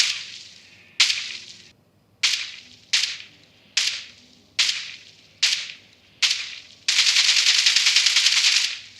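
Gunfire in the mobile shooter BGMI, played through OPPO Enco Buds3 Pro+ earbuds, comes as eight sharp, evenly spaced single shots followed by a sustained automatic burst, loud and crisp with no talk.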